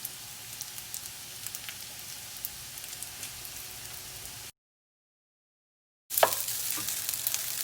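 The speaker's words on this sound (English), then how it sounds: "our rice has been frying in all that really nice rendered bacon fat and getting nice and crispy" Rice frying in rendered bacon fat crackles and sizzles with light stirring, a fine popping hiss that cuts to silence for over a second, then resumes louder and closer.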